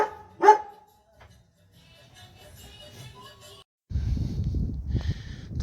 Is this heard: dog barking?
yes